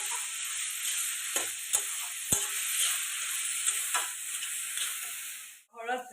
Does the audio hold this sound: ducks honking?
no